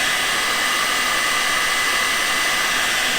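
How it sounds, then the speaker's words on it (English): A heat gun blows steadily while shrinking heat-shrink tubing over battery wiring during a dual battery install in a Toyota 200 Series; a constant loud, hissing airflow roar runs unbroken throughout, with no talking. "the heat gun works a little bit faster"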